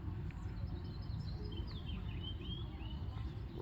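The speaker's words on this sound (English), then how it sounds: "Birds are having a ball." Birds chirping in a backyard: thin, quick tweets and short warbling calls over a low steady outdoor rumble, fairly faint and distant, with no talk.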